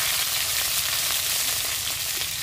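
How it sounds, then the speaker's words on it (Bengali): Bay leaf, dried chilli, cumin and garlic cloves sizzle in hot oil, a steady, close, bright crackling hiss that runs unbroken throughout, with no talking. "ফোড়নে দিয়ে দেবো তেজপাতা আর শুকনো লঙ্কা, সামান্য পরিমাণ জিরে দিয়ে দেবো, কয়েকটা রসুনের কোয়া দিয়ে দেবো"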